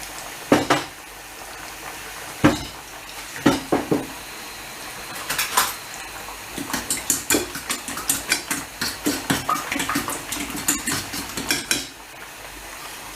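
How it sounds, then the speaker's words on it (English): Rapid rhythmic clinking of a utensil whisking eggs in a bowl, starting with a few scattered taps and building into fast continuous beating. "this is how we beat our eggs"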